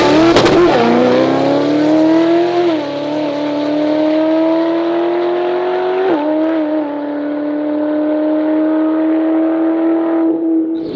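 Twin turbo C8 Corvette accelerating hard through the gears. Loud, close engine roar with a sharp rev at the start, then steady climbing pulls broken by brief dips at each shift around three and six seconds, tire noise underneath.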